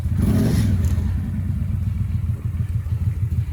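A Honda Aero VT1100C3 motorcycle engine idles loudly and unevenly nearby, its low chugging pulse rough and irregular with a mechanical clatter.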